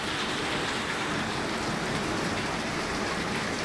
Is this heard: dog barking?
no